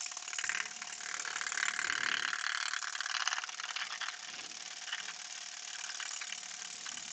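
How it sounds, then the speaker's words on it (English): An orbital sander runs steadily and loudly throughout, giving a continuous dense buzzing whir with no pauses and no voices over it. "orbital sander."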